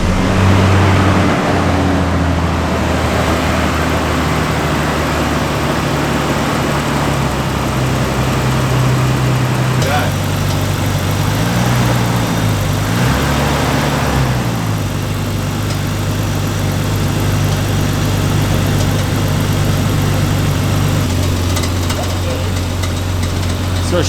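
A JDM car engine idles steadily after a cold start, its low rumble continuous and close, with revs shifting briefly midway; a faint ticking click runs through it, with some background noise.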